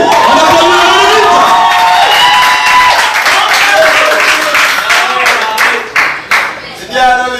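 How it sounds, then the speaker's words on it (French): Loud crowd applause with cheers and shouts at a dance battle in Port-Gentil, Gabon, clapping rolling on and thinning toward the end, some voices calling out over it. "On applaudit le No Limit."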